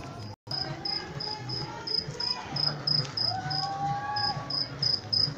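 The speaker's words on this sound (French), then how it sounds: "On entend les grillons, c'est super bon." Crickets chirp steadily in a rapid, high-pitched pulse against a quiet nighttime campsite background, with faint distant hum and a brief dropout near the start.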